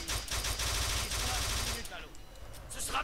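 Automatic gunfire in Kane & Lynch 2: Dog Days sounds as a loud, close stream of rapid shots for about two seconds. It then drops to quieter scattered sounds before a final short burst.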